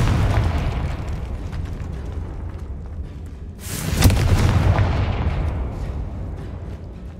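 A Confringo blasting spell in Hogwarts Legacy strikes a barricaded archway, sounding as a single heavy boom midway through, rising out of a low rumbling ambience and trailing off into a long rolling decay.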